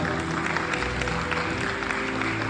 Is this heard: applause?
yes